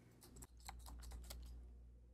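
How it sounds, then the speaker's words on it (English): Key presses on a Braille Sense braille notetaker keyboard, a quiet run of soft clicks in an irregular rhythm over a steady low hum, with no talking. "We'll type my name."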